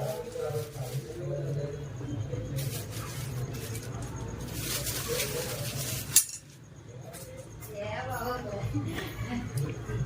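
Chicken 65 marinade being mixed with cornflour and maida, the spoon or utensil clinking against a bowl in scattered bursts, with one sharp knock midway and a low background hum.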